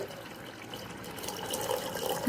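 Water pours steadily into a pressure cooker over soaked chickpea dal (chana dal) for boiling, a continuous close splashing trickle that swells slightly toward the end, with no talking.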